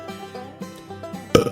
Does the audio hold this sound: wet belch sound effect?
yes